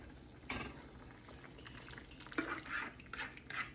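A thick soup simmers in a pot, giving quiet, irregular bubbling and soft plops that come in small bursts over a low background hiss, faint and close.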